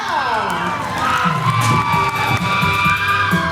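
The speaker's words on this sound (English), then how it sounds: "Ladies and gentlemen, round of applause for 2025 Taupo for Siva Moana, Samantha Salea." An audience cheers, whoops and shouts for a dancer at a 2025 Siva Moana recital honouring the taupo. The sound is a loud, dense, continuous crowd roar with overlapping voices.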